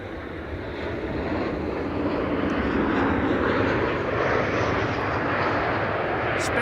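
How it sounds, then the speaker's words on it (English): A KLM airliner on a flight from Zurich arrives at Amsterdam Schiphol Airport, its engines a loud, steady roar that swells slightly and holds throughout. "This is KLM Flight 1920 arriving from Zurich."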